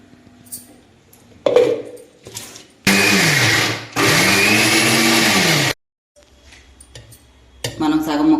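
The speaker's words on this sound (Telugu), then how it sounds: "మూత పెట్టుకుని మిక్సీ వేద్దాం మళ్ళీ" A mixer grinder whirs loudly in two bursts while grinding dried red chillies and raw mango for pickle, briefly pausing between them, with softer clattering and handling noises before and after.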